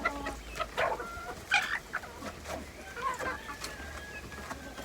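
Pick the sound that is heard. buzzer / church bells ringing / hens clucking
hens clucking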